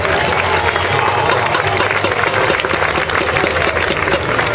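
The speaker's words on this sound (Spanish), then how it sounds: "Si os saluda con las dos manos, le aplaudimos a tope" A large roadside crowd at a Vuelta a España 2012 cycling stage applauds loudly and continuously, with dense clapping, cheering and voices mixed in throughout.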